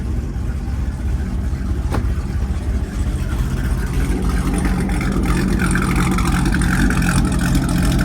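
A 2009 Chevrolet Corvette ZR1 with its V8 engine runs steadily and loudly throughout, a dense continuous engine roar with no talking over it.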